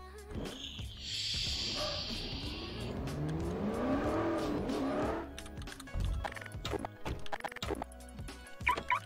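A car in an old GTA video game screeches its tires with a high squeal while the engine revs up and climbs in pitch, then drops away into scattered clicks and knocks.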